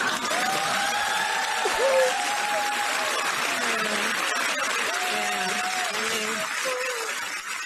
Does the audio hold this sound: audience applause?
yes